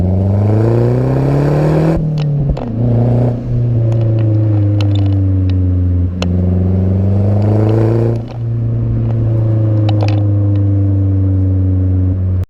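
A Mazdaspeed3 2.3-liter turbocharged four-cylinder engine revs loudly and steadily, its pitch climbing and dropping in several repeated pulls with a deep, continuous rumble throughout.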